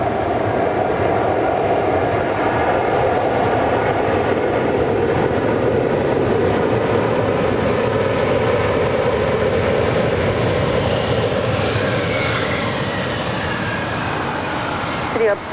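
A Green Air Cargo Boeing 747 takes off at Los Angeles International Airport, giving a loud, sustained jet roar across the whole stretch with a rising whine near the end, under a broad rumble.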